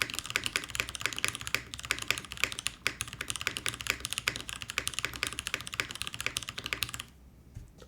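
Close, continuous typing on a top-mount Milan TKL mechanical keyboard with lubed and filmed J-Wick switches, a rapid stream of clacky keystrokes that stops abruptly near the end, leaving near silence.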